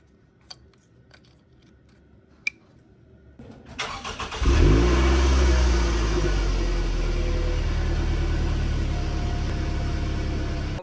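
A 2009 Scion xB engine cranks and catches after a spark plug and coil pack change, then settles into a steady, loud idle close by, preceded by a few sharp clicks.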